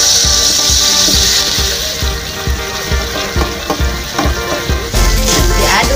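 Ground spice paste for acar kuning frying loudly in a pan, a dense continuous sizzle with rhythmic scraping as it is stirred, close up with no voices.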